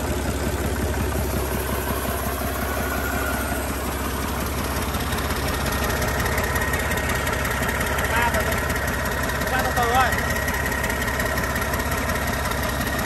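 A Daewoo Doosan 360 hp engine running steadily, a loud, even low rumble with a rhythmic knocking pulse throughout, recorded close up with no break in the sound.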